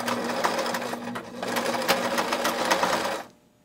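A sewing machine stitches steadily through the thick layers of a knitted purse strap, a close, continuous mechanical whirr with rapid needle clatter that runs for about three seconds before stopping abruptly.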